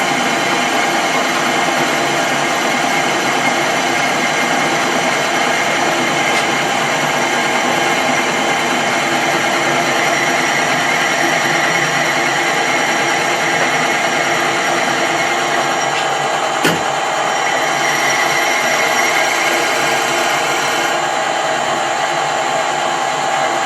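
A Colchester Bantam lathe cuts 16DP change gears, giving a loud, steady machine whir that runs unbroken throughout, with one sharp click partway through and no voices.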